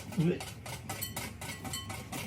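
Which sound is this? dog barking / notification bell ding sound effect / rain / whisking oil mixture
whisking oil mixture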